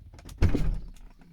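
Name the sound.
VW Eos car door opening, window lowering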